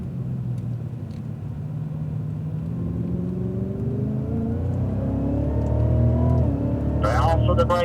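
Cadillac CTS-V accelerating on a race track, its engine note climbing steadily in pitch and growing louder as it pulls away, with a voice talking over the engine.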